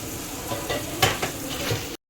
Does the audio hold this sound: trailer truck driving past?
no